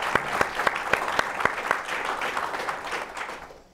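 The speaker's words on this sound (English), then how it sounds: "So that deserves a clap." Applause from a conference audience at a foreign-policy discussion: a few sharp individual claps at first, then a steady wash of clapping that fades out over several seconds.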